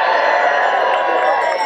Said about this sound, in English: Can we have a big cheer?